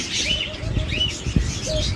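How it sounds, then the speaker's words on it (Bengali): Doves in a bird shop make soft coos and lively chirps, with other caged birds tweeting close by and a brief flutter of wings, and no one speaks. "আমাদের কাছে অসংখ্য পরিমাণ ঘুঘু পাখি রয়েছে"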